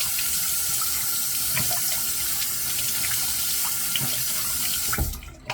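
A tap runs water steadily at a sink for a rinse after shaving, a constant close splashing stream that cuts off abruptly near the end.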